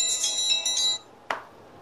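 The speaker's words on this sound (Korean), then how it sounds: "또 전화가 또 오네요" A phone rings for an incoming call: a bright electronic ringtone melody plays for about a second and then stops, followed by a single short clack, as if the handset is picked up.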